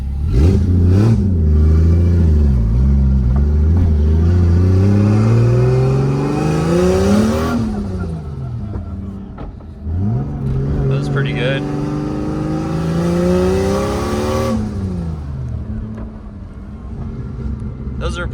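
A Toyota Aristo converted to a single turbo accelerating in two long pulls, the engine note climbing in pitch through each gear before dropping back at the shifts, loud and close inside the car with talking over it.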